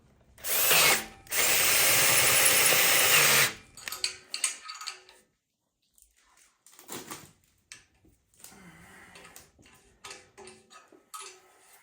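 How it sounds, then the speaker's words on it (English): A power drill whirs loudly for a few seconds in two bursts during a Super Duty Dana 50/60 axle regear, then scattered clattering and handling noises follow. "I'm going to drill the hole"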